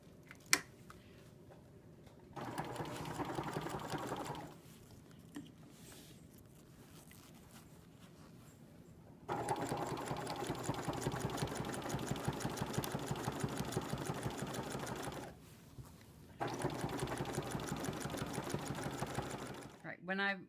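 A sewing machine stitches a quilt, running in three steady whirring bursts separated by pauses, close and moderately loud, with a voice talking over the quieter gaps.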